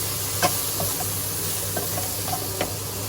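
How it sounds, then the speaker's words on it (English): Quorn chicken fajitas with seasoning sizzle gently in a pan as a spatula stirs them, a steady low frying hiss broken by a few soft scrapes and taps, no voices. "I'm going to give that a good stir in"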